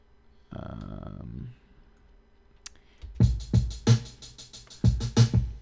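A punchy, compressed drum pattern programmed in FL Studio with thudding kicks and crisp hats kicks in after a short synth tone and a brief click.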